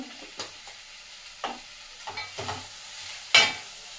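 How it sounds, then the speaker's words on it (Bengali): Dry-fried vegetables with a pinch of asafoetida are stirred in a pan, giving several separate scraping strokes over a faint sizzle and ending in one louder scrape. "হিংটা দিয়ে একটু নেড়ে চেড়ে নেবো"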